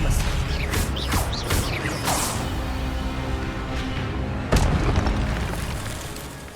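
An Expelliarmus spell effect in a Harry Potter video game: a burst of whooshing, crackling magical swishes at the start, then a heavy boom with a rumbling tail a few seconds later, loud and close over a continuous game ambience.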